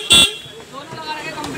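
A Mega Sony double car horn fitted to a modified Mahindra Scorpio gives one short, loud blast near the start and then stops, with faint background noise after it.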